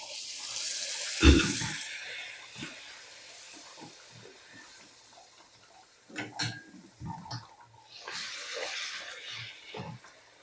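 Puris frying and puffing in hot oil, a soft continuous sizzle with a sudden bubbling burst early on and further crackling flare-ups later, close by and without speech.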